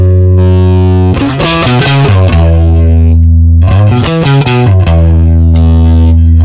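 Rickenbacker bass guitar through a drive effect, thick overdriven tone, plays two bursts of quick notes over a sustained distorted low note, loud and close.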